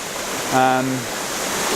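At Linn Jaw waterfall, water rushes down in a constant broadband roar. A short tonal sound rises out of the steady wash for a moment, and no voices can be heard.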